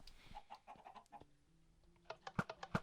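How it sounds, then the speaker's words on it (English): Chickens on a chicken farm in the video game Minecraft give faint clucks, a scattered run first and then a louder cluster of quick clucks near the end. "So essentially, the new Minecraft update has broken my chicken farm."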